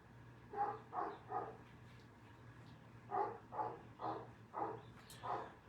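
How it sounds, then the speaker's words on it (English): Dogs barking outdoors in a backyard, faint and distant, two clusters of three to five muffled barks separated by a pause, under a low steady hum. "I'm certain you can hear my dogs out back barking."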